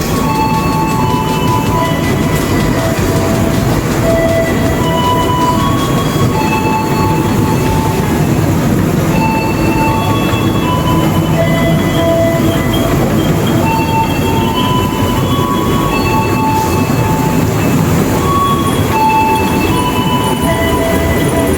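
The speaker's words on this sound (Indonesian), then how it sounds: "Untuk nyebrang nungguin kereta ini lewat." A long passenger train rolls past close by at an Indonesian crossing during the holiday season, its loud, continuous rumble laced with squealing wheels and clattering rail joints for over twenty seconds.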